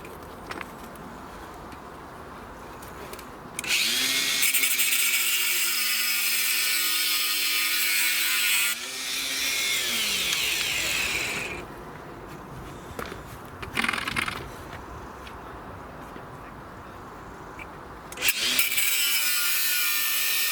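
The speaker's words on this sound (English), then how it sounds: "What we're going to do now is just grind these bolts." A power tool grinds bolts in a workshop repair, a harsh high whine starting abruptly and holding for several seconds, then returning in shorter bursts between quieter gaps.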